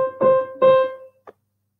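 A short musical bar of a few plucked or struck pitched notes in compound time, with two strong sustained notes and a brief quieter final note, played alone.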